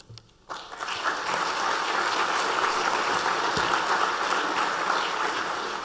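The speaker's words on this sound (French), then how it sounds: "mais vous avez eu les applaudissements" A room full of people at a cooperative's general assembly breaks into sustained, dense applause after a short quiet moment, the clapping steady and moderately loud for several seconds with no talking over it.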